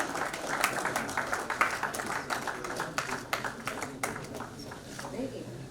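Audience applause rings out at an award ceremony in Lucknow as nursing and paramedical institutes receive certificates, a dense spread of clapping running steadily throughout, moderately loud in a hall.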